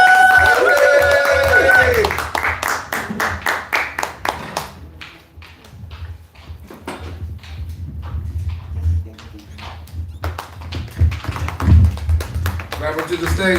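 An audience claps at a cigar lounge performance as a performer is welcomed to the stage, a burst of clapping that thins into scattered claps, with talking and cheering voices mixed in.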